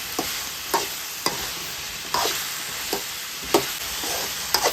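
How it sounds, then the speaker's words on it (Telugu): Okra pieces fry in hot oil in a pan for bendakaya curry, a steady broadband sizzle broken by sharp scraping stirs about once a second, close and fairly loud with no talking. "ఇవి కూడా ఇలాగా నూనెలో 1 నిమిషం వేసుకోవాలి బెండకాయ ముక్కలు."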